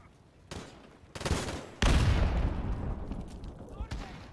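Gunfire in the shooter Call of Duty: Modern Warfare, with loud overlapping bursts of automatic fire that begin after a quiet start and build into a sustained, dense roar that slowly tails off.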